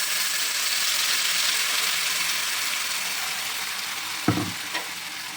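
Pumpkin paste fries in oil with black cumin, a steady close sizzle with a crackling hiss, broken near the end by a couple of sharp clanks of a utensil against the pan.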